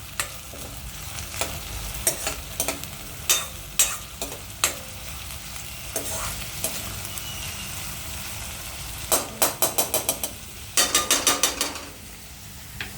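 Green peas and onion frying in a pan over low gas, a steady soft sizzle broken by repeated scraping stirs, including quick clustered bursts of spoon-on-pan strokes toward the end, with no one speaking.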